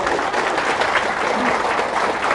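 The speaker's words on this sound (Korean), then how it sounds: "그래, 박수." Thick, continuous applause from a large lecture audience fills the whole stretch at a steady, loud level, with no pause in the clapping.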